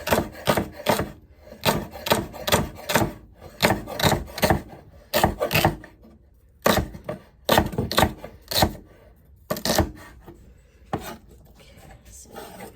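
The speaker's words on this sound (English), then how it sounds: "And what I'll do is chop them up very small, medium-sized pieces." Knife chopping vegetables for sofrito on a wooden cutting board, a close, steady run of quick crisp taps in bursts with short pauses between them, heard alone.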